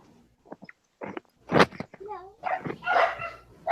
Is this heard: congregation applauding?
no